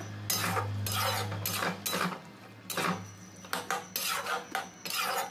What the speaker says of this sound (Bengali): জল দিয়ে এইভাবে নাড়াচাড়া করে সবজিটা কষে যেতে হবে।